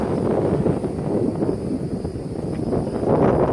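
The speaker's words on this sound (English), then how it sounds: "Oh my God, it's so windy." Strong wind from a bad storm in Lehigh Acres, Florida roars and buffets the microphone in a steady broadband rush with no voices.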